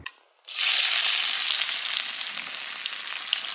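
Food hits very hot oil in a cooking pot with a sudden loud hiss that settles into a steady, close, dense sizzle and crackle, with no voices.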